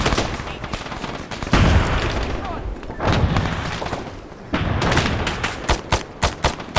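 Arma 3 combat with a grenade blast and heavy gunfire, loud booming bursts and rapid rifle and machine-gun volleys crashing repeatedly, with sharp isolated shots near the end.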